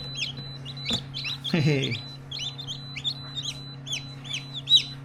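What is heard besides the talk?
Australorp chickens clucking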